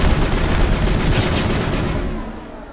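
Loud, dense bursts of shotgun fire in the video game Mass Effect, with heavy blasts running together into a sustained barrage that fades slightly at the end.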